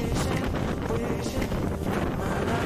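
Wind on a blustery Sunday beside a lake in Denmark, gusting and buffeting the microphone in a constant roar that swells and eases over a couple of seconds.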